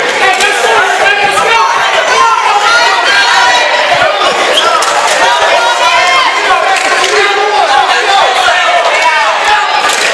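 Crowd noise fills an old gym during a high school wrestling sectional, with a steady, loud wash of many overlapping voices, chatter and shouts throughout, plus occasional thumps.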